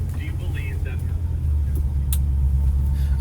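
An old classic truck's engine rumbles at a low, steady idle nearby on a test drive, with light clunks and a brief thump over the constant drone.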